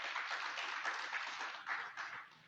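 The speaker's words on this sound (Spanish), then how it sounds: "Dale un fuerte aplauso al Señor." A church congregation applauds together, a dense, even wash of clapping from many hands, moderately distant and steady throughout.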